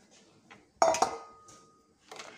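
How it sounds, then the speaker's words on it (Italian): Paccheri pasta goes into a pot of boiling salted water with a sharp clatter and clink of pasta and metal, one main burst followed by softer rattles, close and fairly quiet in a kitchen. "L'acqua sta bollendo, già salata, andiamo a metterci i paccheri."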